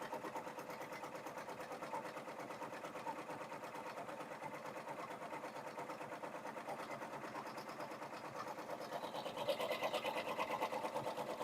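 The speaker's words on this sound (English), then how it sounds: "my tendrils are going to stitch out" An embroidery machine stitching tendrils on a chunky pumpkin mug rug, giving a steady, fast, even mechanical whir and needle clatter at close range, alone.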